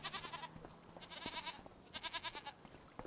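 Goats in pens bleating in the video game Farming Simulator 25, several overlapping wavering bleats in quick bursts, fairly close and clear with no talk.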